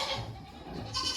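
A red Nigerian dwarf goat bleats briefly and faintly against steady background noise, a short single call with no talk over it.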